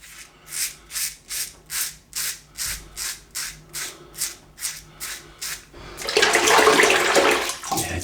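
An aluminium safety razor rinsed under a running tap after shaving four days of growth: about a dozen rhythmic swishing strokes, then a steady rush of water, close up and without talk.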